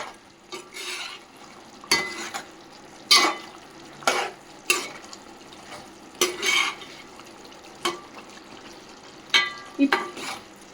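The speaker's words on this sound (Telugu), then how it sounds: "ఒక్కసారి కలిపి చూద్దాము చూస్తున్నారు కదా చక్కగా బాయిల్ అయింది" A spoon stirring Andhra-style gongura chicken curry as it boils in a pot, heard as a series of scraping, bubbling strokes about every second, fairly close and clear, with no talking.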